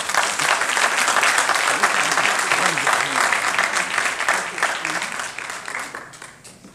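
An audience applauds at a medical school white coat ceremony and lecture, sustained full clapping from many people that gradually thins and tapers off.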